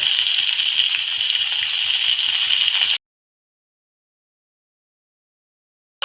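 Tomato and carrot sambharo seasoned with salt and turmeric is stirred in a hot pan, giving a steady bright sizzle with soft rhythmic scraping for about three seconds before it cuts to silence.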